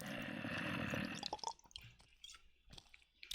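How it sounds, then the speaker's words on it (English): Water in Minecraft, a burst of flowing water followed by scattered quiet drips and splashes at a low level with no voices. "That sounded exactly like Minecraft water sounds."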